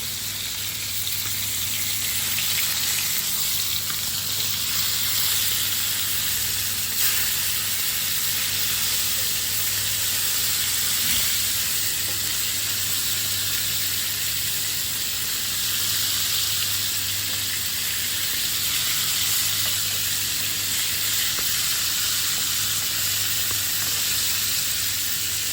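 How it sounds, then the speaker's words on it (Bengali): Snakehead fish shallow frying in a pan with cardamom gives a steady, dense sizzle that holds evenly throughout, close and continuous, with no talking over it. "এটাতে শ্যালো ফ্রাই বলা হয়"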